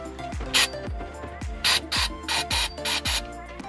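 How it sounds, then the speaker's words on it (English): Brake cleaner is sprayed into the engine of a Sea-Doo SP personal watercraft in a rapid series of short, close hissing bursts over a low mechanical hum. "Just gonna spray a little bit in here."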